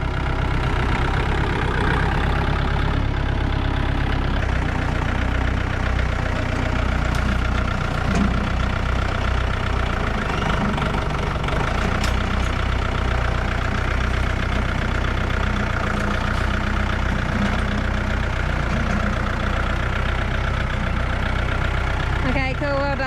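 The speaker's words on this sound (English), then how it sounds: "Hopefully the tractor can pull it out" A tractor engine runs steadily at a rough idle throughout while it works to pull something out of a ditch, a continuous close low rumble with some clanks and voices faintly under it.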